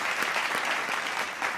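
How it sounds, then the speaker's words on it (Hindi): An audience at an Independence Day poetry gathering applauds to welcome a poet onto the stage, with dense, steady clapping that fills the whole short moment at a moderate level. "जोरदार तालियों से स्वागत कीजिए।"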